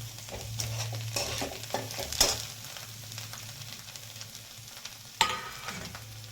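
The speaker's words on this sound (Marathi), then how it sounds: "कांदा चांगला लाल झालाय आता छान परतलाय आपण आता त्याच्यात भाजी टाकून घेऊ" Vegetables are stirred into browned onions in a frying pan, with a close, steady sizzle under repeated scraping stirs and a couple of sharp clanks of the spoon against the pan.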